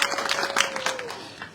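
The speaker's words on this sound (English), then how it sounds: "showed confidence by itself deserves another round of applause" Brief round of audience applause for young speakers at a school debate between Orion Academy and Arthur Waldron Seventh-day Adventist Academy; scattered claps that fade out within a second or so.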